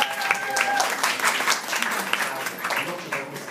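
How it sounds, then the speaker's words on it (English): Applause for a performer at a book launch evening; a burst of clapping from the audience, with a few voices and cheers mixed in, fading slightly toward the end. "Please give Carter a big round of applause"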